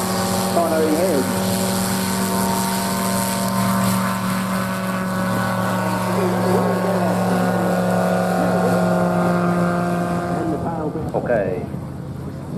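A propeller aircraft takes off at a STOL competition. A loud, steady engine drone carries wavering propeller tones, and a voice talks over it before the sound cuts off near the end.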